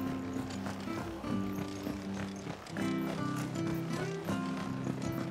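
Horse hooves clop in the video game Final Fantasy XVI, a quiet, irregular patter of footfalls mixed with game music and ambient sound at low level.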